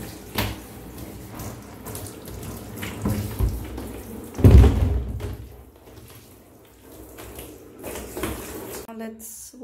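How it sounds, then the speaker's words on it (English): Hot water is poured over a plastic toy basket sprinkled with Dettol disinfectant at a sink: a steady splashing stream that surges louder midway, then cuts off sharply near the end. "Now let's put the steam water."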